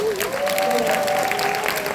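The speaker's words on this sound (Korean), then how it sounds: "여러분 여기에서 박수 치셔야 돼요." An audience at a seminar applauds, a continuous crowd patter of clapping heard alongside a sustained voice or tone, fairly loud throughout.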